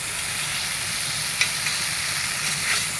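Fish curry with potatoes and onion paste sautéing in a pan gives a steady close hiss and sizzle, with a few faint clicks of a stirring spoon; no speech.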